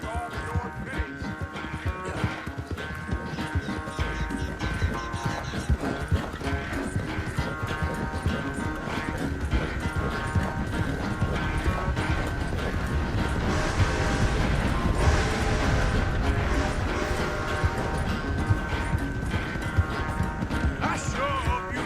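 Horse hooves clip-clopping steadily during a ride in the video game Red Dead Redemption II, a continuous rhythmic patter mixed under game ambience and music throughout.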